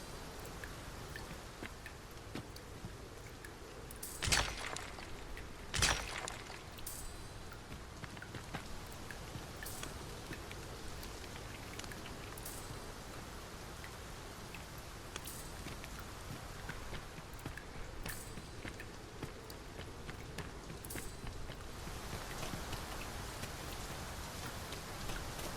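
Steady rain falls in the video game Dragon's Dogma 2, a soft continuous patter of drops on surfaces held at an even, fairly quiet level, with a few brief louder knocks and footfall-like clops breaking through early on.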